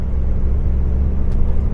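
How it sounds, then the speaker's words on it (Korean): Steady low rumble and whir of a moving truck accelerating onto a highway, heard from inside the vehicle, continuous and fairly loud with no talk. "이제 고속도로로 들어가는 거예요"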